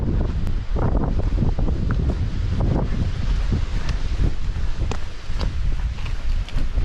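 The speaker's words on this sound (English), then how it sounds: "It's pretty windy." Strong gusty wind buffeting the microphone on a mountain trail of the Appalachian Trail near Mount Rogers, a loud continuous low roar with rustling bursts and no talk.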